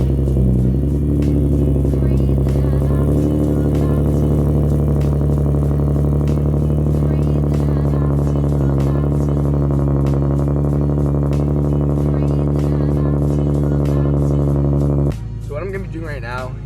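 A Nissan 370Z engine cold starts and holds a loud, steady high idle for about fifteen seconds before dropping abruptly to a lower, quieter idle.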